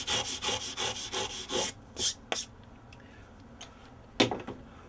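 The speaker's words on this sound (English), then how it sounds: "I'm going to clean off my file by taking this tool called a card file and cleaning out all the old metal shavings out of this flat file" A card file scrubs metal shavings out of a flat file, giving a run of quick, even rasping strokes up close, then a few slower scrapes and a final sharp rub with quiet between.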